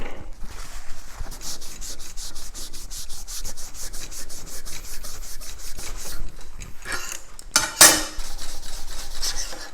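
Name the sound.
rubbing welded aluminum by hand with a Scotch-Brite pad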